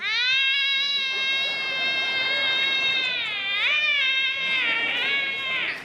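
A human voice imitates a cat in heat, drawing out a long, wavering, high-pitched yowl that rises and bends near the end.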